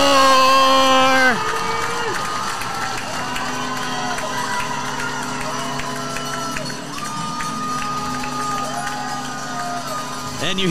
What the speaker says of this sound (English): And you hear this crowd erupt.